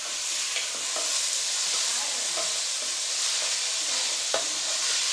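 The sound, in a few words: onions frying in oil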